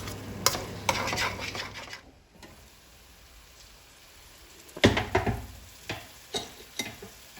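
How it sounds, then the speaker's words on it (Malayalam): Rice with added salt stirred in a pan, with clattering spatula scrapes in bursts at the start and again later, a brief near-silent gap between them and a faint sizzle underneath. "ഒന്നുകൂടെ ഇളക്കി യോജിപ്പിക്കാം"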